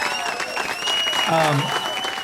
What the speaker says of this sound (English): Everybody, Darlene, a round of applause